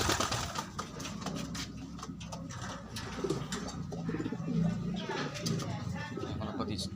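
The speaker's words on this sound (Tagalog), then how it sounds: "Yung kalapatids mo papasok sa trapdoor." Pigeons coo repeatedly near the trapdoor of a loft, steady and close, with a person talking over the birds throughout.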